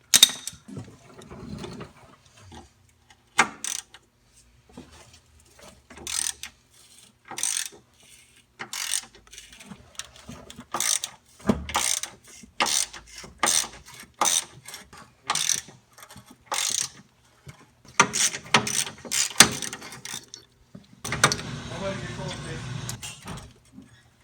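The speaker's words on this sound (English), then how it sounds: "I'm going to show you how to do it with just a good old-fashioned ratchet" An old-fashioned hand ratchet turns bolts on the sway bar bushings of a 2001 Honda CR-V, clicking in repeated bursts of rapid pawl ticks with pauses between strokes, close up, under occasional talk.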